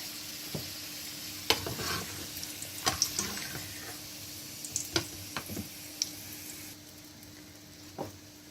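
Almonds frying in oil in a pan while being stirred, a low continuous sizzle under scattered scraping clatters of a spoon turning them, nearby and moderately quiet, easing slightly toward the end.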